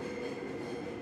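Inside a Seoul subway train, a steady, even rumble of wheels and carriage noise fills the space, a continuous droning hum with no distinct clacks and no voices over it.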